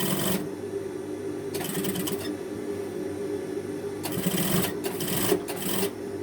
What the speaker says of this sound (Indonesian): Nah, tinggal kita jahit tindas aja.